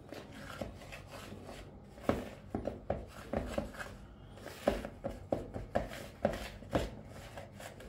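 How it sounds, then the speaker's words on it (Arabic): A honey and gum arabic mixture being stirred and worked in a container, giving a series of sticky, irregular knocks and scrapes at close range, with no talking. "ونبدأ بقى ايه، نقلب الخليط بتاعنا"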